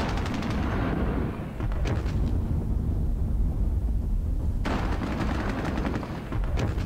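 Heavy gunfire from a 100 millimeter tank gun and machine gun in Squad Battles: Soviet-Afghan War, a dense, continuous barrage of loud bursts with sharper cracks near the start and again toward the end.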